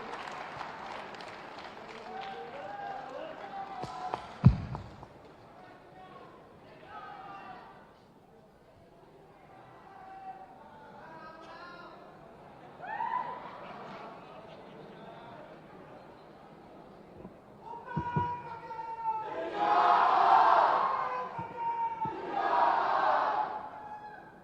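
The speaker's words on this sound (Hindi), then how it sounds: "पूरे सम्मान के साथ जोरदार तालियों से स्वागत करें आप सभी" Audience applause and cheering welcome Bhupesh Baghel at a college diamond-jubilee alumni gathering, swelling loudly in two bursts near the end after a stretch of amplified talk and crowd murmur.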